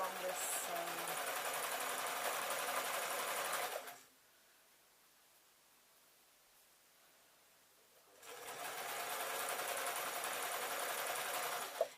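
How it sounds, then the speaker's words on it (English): A sewing machine stitches along a canvas tote seam in two steady runs, close and fairly loud, separated by a pause of several seconds of near silence. "just sew along this seam"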